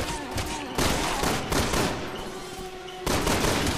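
Rapid gunfire in Resident Evil 6 comes in loud bursts of shots with brief gaps between volleys, close and dominant, with no talking over it.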